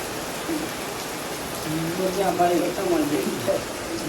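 Steady rain hisses in the background while people talk nearby.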